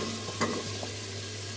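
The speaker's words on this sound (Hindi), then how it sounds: "तो आलू को 4 से 5 मिनट तक अच्छी तरह से भून लेंगे हम" Potatoes fry and sizzle in masala in a pan, with a steady hiss and a brief stirring scrape, close and moderately loud.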